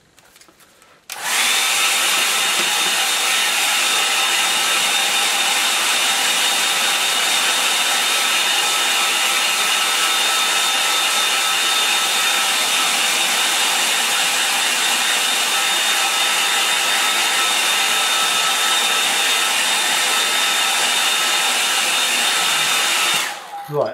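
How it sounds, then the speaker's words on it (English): An electric hand dryer blasting air over a wet watercolour painting, a loud, steady whooshing roar that starts abruptly, holds constant for over twenty seconds, then cuts off. "I'll give it a dry. I'm gonna find my hand dryer."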